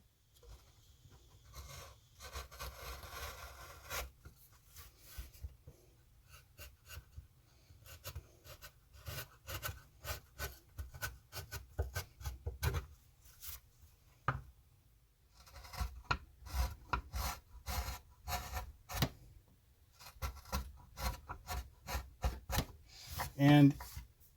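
A parting gouge cuts a straight line into wood during fantasy carving, producing bursts of dry rasping scrapes in uneven strokes with pauses between, close and fairly quiet, with a voice talking at times.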